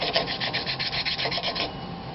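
A part of a B & BX steam injector is turned back and forth by hand to lap its seat, making a close, steady rasping rub that pulses rhythmically with each short rotation, with no talk.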